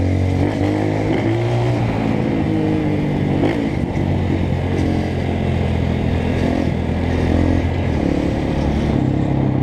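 A Honda CRF 230 motorcycle is ridden, its engine droning loud and close in a steady, unbroken roar with slight shifts in pitch and no speech over it.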